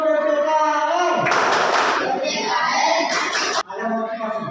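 A school class claps in unison, bursting into two short rounds of rhythmic group clapping amid chanting voices in a classroom.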